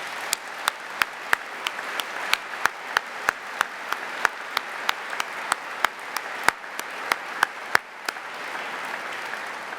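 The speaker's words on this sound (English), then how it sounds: "Give them a round of applause" Scattered handclaps at an Air Force Space Command headquarters change of command ceremony, sharp individual claps in a fairly steady rhythm, moderately quiet over low room noise, with no voices.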